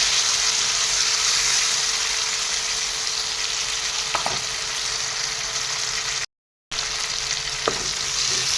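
Tomatoes sizzle steadily in a pan, close and constant, with a few soft utensil taps. The sound drops out completely for a moment before the frying resumes.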